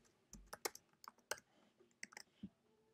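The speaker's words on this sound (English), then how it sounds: "I'm going to type that again" Keys clack on a computer keyboard in a quick, irregular burst of about a dozen close, crisp taps with short pauses, heard alone in a quiet room.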